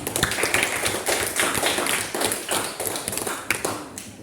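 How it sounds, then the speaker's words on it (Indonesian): A class of schoolchildren clapping their hands together in a classroom, a dense, irregular burst of claps close by and fairly loud, with no speech over it. "Tepuk tangan untuk semua."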